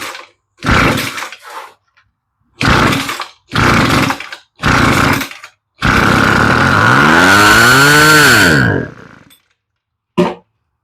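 A Husqvarna 125BV leaf blower engine with a faulty carburetor is pulled over several times in short sputtering bursts, then briefly catches and revs up and down before dying, loud and close.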